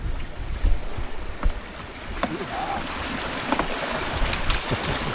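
A Windrider 17 mini trimaran sails at sea, with wind buffeting the microphone and water rushing and slapping against the hulls in uneven gusts, close and continuous.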